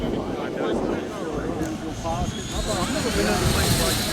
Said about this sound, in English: That thing sounds like a jet up there